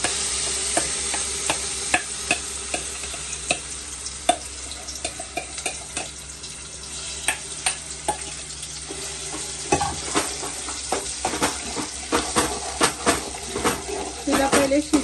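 Masala paste with turmeric and red chilli powder sizzles steadily in a pan for restaurant-style matar paneer gravy, broken by frequent sharp scrapes and clicks of a spoon stirring it, close and moderately loud.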